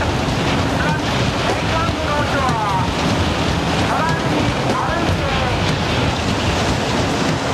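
Tsunami floodwater rushing through the streets of Kesenuma, a loud, unbroken roaring wash of churning water mixed with heavy wind buffeting, steady throughout with no break.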